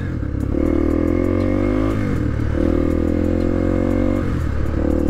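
A 1998 Honda XR 250R trail motorcycle runs loud and close at low road speed, its engine note rising and falling through gear changes with a buzzy, rattly exhaust.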